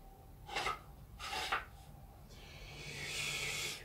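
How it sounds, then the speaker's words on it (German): Hand sanding a wooden crosscut sled for a table saw: two close, scratchy rubbing strokes followed by a longer, quieter rasping pass, fairly faint overall. "So, da wird ein bisschen geschliffen."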